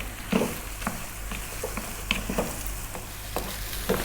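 Canned refried beans are stirred in a hot pan, giving a quiet sizzle with scattered scrapes and soft knocks of the spoon over a low steady hum.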